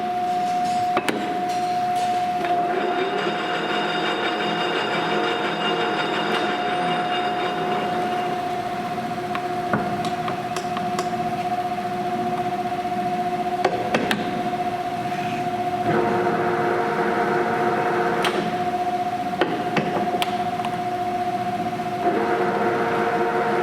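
Large machine chuck spins up toward 856 RPM, a steady mechanical hum with a clear tonal whine, punctuated by occasional sharp clicks and clanks.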